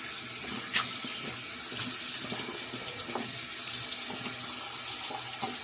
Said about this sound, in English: Get this tub rinsed out.